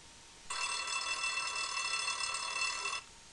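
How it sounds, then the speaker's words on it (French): A timer program's alarm rings out as an electronic telephone-like bell, a steady trilling tone that starts abruptly, holds for about two and a half seconds, then cuts off cleanly in a quiet room. "Le son de l'alarme."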